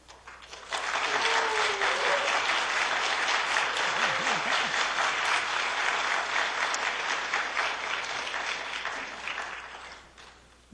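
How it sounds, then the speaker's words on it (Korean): A church audience gives loud, sustained applause as a guest speaker comes forward, many hands clapping densely for several seconds before tapering off, with faint voices mixed in. "큰 박수를 부탁드립니다"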